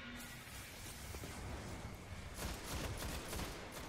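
An enemy wizard firing in the video game Destiny, a dense, continuous crackle of rapid shots and bursts over a noisy battle backdrop, strengthening toward the end.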